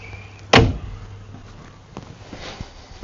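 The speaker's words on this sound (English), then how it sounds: "Same type, nicer mechanism to be able to fold that door back just a little bit." A motorhome pocket door moves on its sliding mechanism with one sharp close knock, followed by a few faint rattles and soft taps.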